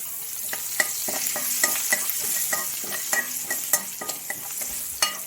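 Ginger and garlic fry in the same oil used for prawns, a steady close sizzle broken by repeated sharp scraping clicks of a spoon stirring, with no talk.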